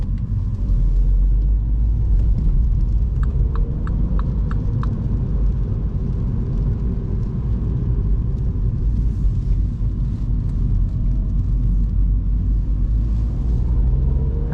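A 2019 MINI Cooper facelift drives at night, its engine and road noise making a steady, loud low rumble from inside the car, with a short run of faint clicks partway through and no speech.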